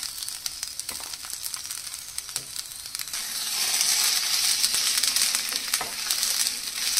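Julienned mixed vegetables with capsicum stir-fried for a restaurant-style jalfrezi, giving a steady hiss of sizzling oil with scattered clicks of the spatula that swells louder midway, no talking.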